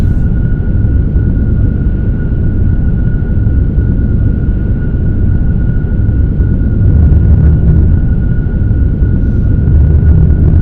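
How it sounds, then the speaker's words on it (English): An F-35B makes a vertical takeoff in the X-Plane 12 flight simulator, its engine a loud, steady, unbroken roar with a thin whine held high above it from start to finish. "There's our vertical takeoff."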